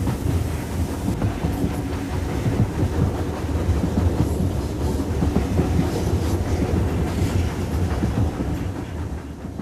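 Steam locomotive 841 hauls its train across open moorland near the summit of the North Yorkshire Moors Railway, a steady rumbling chuff with clattering wheels and carriages, loud and continuous throughout without any talk.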